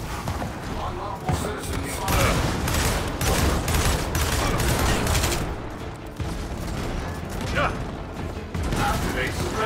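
Rapid bursts of gunfire in the shooter Gears of War 4, dense volleys and mechanical clatter that keep going almost without a break, loud and close, with in-game voices talking over the shooting.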